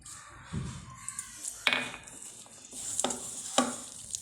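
Onion, green chilli and cumin sizzling in a pan, a quiet steady fry broken by a few stirring scrapes and clinks of a utensil against the pan.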